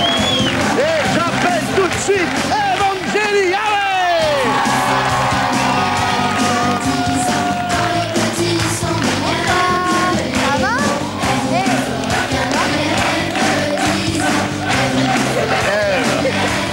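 Studio audience on a French TV quiz show, "Êtes-vous plus fort qu'un élève de 10 ans ?", applauding, cheering and whooping as a contestant is welcomed, with music and a presenter talking over the sustained crowd noise.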